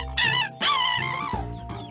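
A human voice imitates a rooster's crow, a drawn-out rising and falling call delivered close and clear on its own, followed by a softer tail.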